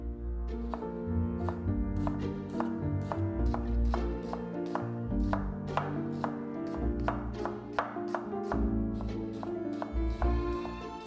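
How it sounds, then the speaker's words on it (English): A knife slices a red onion in a steady run of quick, crisp cuts, about two per second, close and clear over soft background music. "One red onion, sliced."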